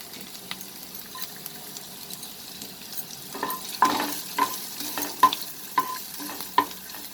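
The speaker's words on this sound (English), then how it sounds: "We will add the chopped ginger and garlic" Chopped ginger and garlic sizzling in hot oil for an onion chicken fry, a soft frying hiss punctuated by a run of rhythmic metallic spatula taps and scrapes that grow louder toward the end.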